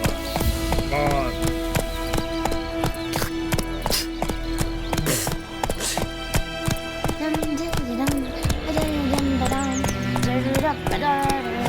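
A horse gallops in The Witcher 3 with rhythmic clip-clop hoofbeats over game music and ambience, while a voice calls out over the top.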